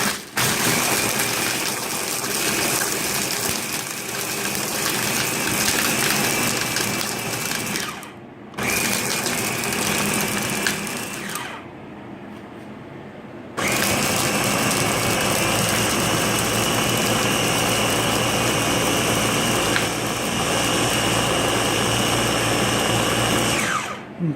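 A Ninja Master Prep QB900B blender runs loud and steady for long stretches, a whirring motor tone that drops out in brief pauses between pulses and changes pitch slightly as it starts again.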